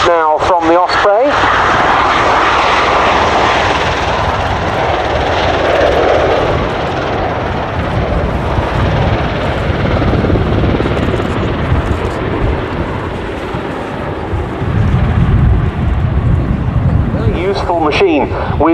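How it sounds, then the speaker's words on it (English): A CV-22 Osprey tiltrotor makes a rolling takeoff at the RIAT 2017 airshow, its engines and rotors roaring loudly and steadily while a commentator talks over it. "So a rolling takeoff now from the Osprey."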